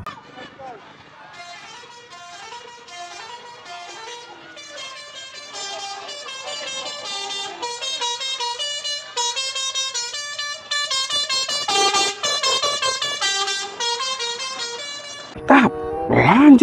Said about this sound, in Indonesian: Kali ini ada bus Sumber Alam teman-teman.